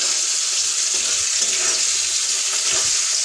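Sliced onions for chicken curry fry in hot oil, giving a loud, dense, continuous sizzle up close with faint stirring movement underneath.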